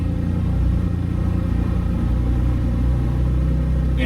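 A Can-Am off-road vehicle rolls along a trail in low gear, its engine a steady, close, rumbling drone with no breaks and no voices.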